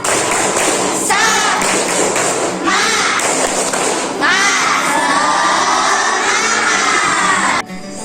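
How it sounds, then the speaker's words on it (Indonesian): A group of schoolchildren shout and cheer loudly in a burst of spirit clapping and chanting, crowded and energetic throughout before a sudden drop at the end. "mari kita tepuk semangat dulu. Tepuk semangat."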